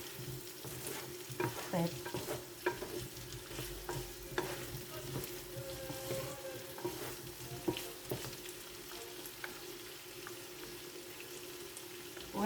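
Food frying in a pan with onions being stirred: a steady close sizzle throughout, broken by frequent scraping and clinking stirs of a utensil, with a brief word spoken once early on.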